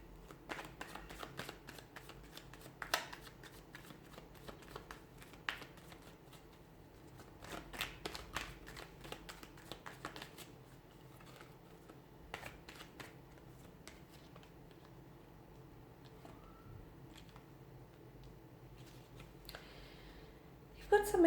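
Tarot cards being shuffled: faint, quick papery riffles and soft clicks repeat throughout at a low level, with someone speaking quietly over them.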